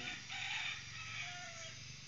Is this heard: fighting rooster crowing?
yes